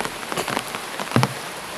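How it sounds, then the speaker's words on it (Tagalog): Heavy rain falling, a dense hiss of drops striking a surface, continuous and close for a brief stretch with a few louder splatters. "Napakalakas ng ulan mga idol."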